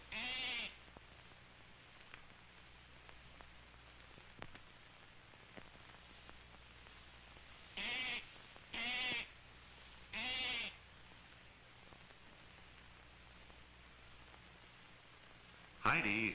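Goats on a dairy farm let out three short bleats in the middle and one more at the end, each clear and fairly close, over a faint steady hiss.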